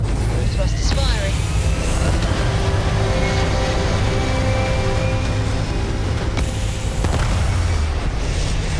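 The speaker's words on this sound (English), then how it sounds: "Thrust is firing." Spaceship thrusters fire in the Starfield video game, a steady loud rumbling roar with low booming throughout, alongside layered engine tones and a brief sharp burst near the start.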